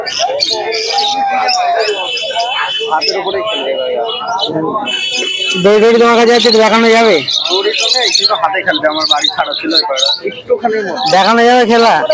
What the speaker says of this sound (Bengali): এই যে এটা খেলা পায়রা